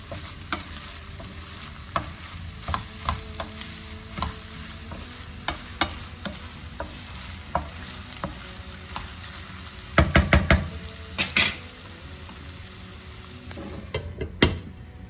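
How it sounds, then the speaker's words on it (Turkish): Minced meat and onions sautéing in a pan, with steady sizzling and crackling under repeated scrapes and taps of a spoon stirring against the pan, including a burst of quick clatters partway through. "Kıymayla soğanımı güzelce kavuracağım."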